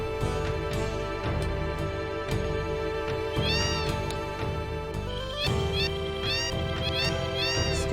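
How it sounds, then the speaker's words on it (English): Cats meow again and again in the Wutai area of the video game Final Fantasy 7, high, wavering calls rising over steady background game music, some overlapping and close, spread across the whole stretch. "There's so many cats."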